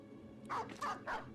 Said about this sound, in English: There goes another dog.